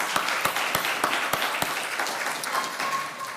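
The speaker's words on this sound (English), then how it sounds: "A big round of applause to you." Applause from an audience for the coaches and mentors at a university business pitch competition, a scatter of separate sharp claps over a steady crowd wash, moderately distant and fairly faint.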